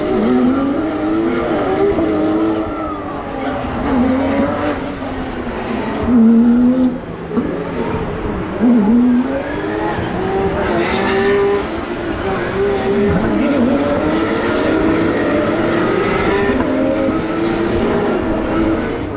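Race cars on a formation warm-up lap at a Porsche festival roar past one after another, engines droning and shifting pitch as they rise and fall in a loud, continuous stream.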